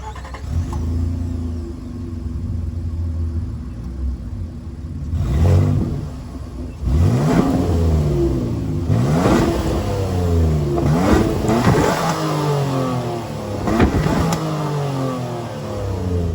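A 2022 Nissan Frontier Pro-X pickup's 3.8-liter V6 engine idles, then cranks to life and revs repeatedly in rising and falling bursts, loud and close, with no voices.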